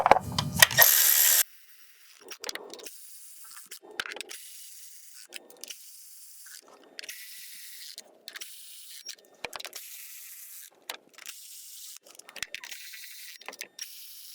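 A ratchet snugs down the valve cover bolts on a Kia Forte: a brief loud burst, then repeated short clicking runs spaced through the clip, close and dry with quiet pauses between.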